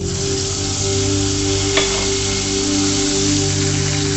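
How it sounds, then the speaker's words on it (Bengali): Whole cumin seeds sizzle steadily in hot oil as a tempering for a Bengali potol dorma gravy with chana, a loud continuous frying hiss with a brief crackle partway through and no talking. "গোটা জিরে ফোড়নে দিয়ে দিলাম"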